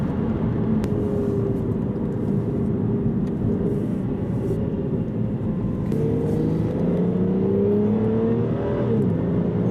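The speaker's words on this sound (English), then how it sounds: "Oh, those gear shifts. Oh, it does sound good." Aston Martin Virage engine accelerating from inside the cabin, droning pitch rising in steps as gears shift, with a steady road roar underneath.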